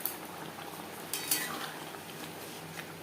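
Spoon scraping and clinking in a pan as kasuri methi and garam masala are stirred into a duck egg curry, soft irregular stirring with a couple of sharper metallic taps over a quiet kitchen background.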